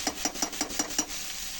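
A spoon stirs frying aloo bari potato dumplings in a pan with six quick, evenly spaced scraping strokes over a soft, steady sizzle, close up and moderately quiet.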